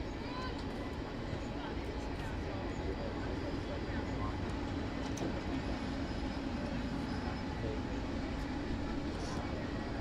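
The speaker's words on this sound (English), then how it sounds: "the train will come in behind, directly behind our press box there. That's the noise that you hear" A train rolls past directly behind the press box at an outdoor soccer match, a steady loud rumble filling the whole stretch while a commentator talks over it.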